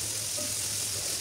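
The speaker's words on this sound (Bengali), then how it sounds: "কাটা পেঁয়াজ দিয়ে ভালোভাবে নাড়াচাড়া করে ভেজে নিচ্ছি।" Chopped onions and chicken fry in a pan for a chicken curry, giving a steady, even sizzle, close and unbroken, with no voices.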